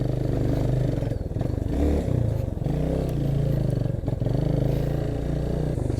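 Motorcycle engine labouring up a steep, rough uphill road, a steady loud close drone with small surges and clattering from the bumpy surface, heard alone without talk.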